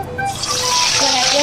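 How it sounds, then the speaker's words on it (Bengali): Pieces of bhola fish, coated in salt and turmeric, sizzle in hot oil with a steady, close hiss that runs throughout, while a voice talks over it. "তো চলো প্রথমে মাছগুলোকে আমি সাঁতলে নিই।"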